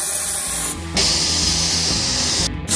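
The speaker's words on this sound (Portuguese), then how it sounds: "Eu vou colocar o copinho aqui deste lado e vou soprar com o bico aqui do outro." A compressed-air nozzle blows across a small cup in a vacuum-effect demonstration, a loud, close, continuous hiss that breaks briefly near the start and then carries on steadily, with no talking.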